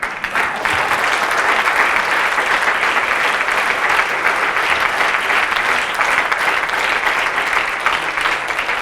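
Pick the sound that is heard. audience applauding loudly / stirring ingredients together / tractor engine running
audience applauding loudly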